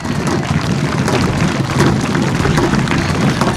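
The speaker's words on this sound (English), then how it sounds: "Let's give them all a big round of applause." A dense, loud, continuous roar of audience clapping for the hockey players at the 50th Annual Wiky Cultural Festival Pow Wow, holding steady without a break.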